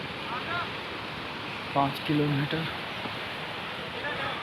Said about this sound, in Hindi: ये देखो ऊपर से झरना कितना बेहतरीन है।